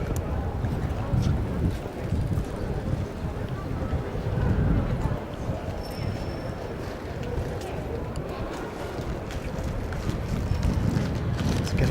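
Wind gusts along Conduit Street in central London, a steady low rumbling buffet across the microphone that lasts throughout, with a voice talking faintly underneath.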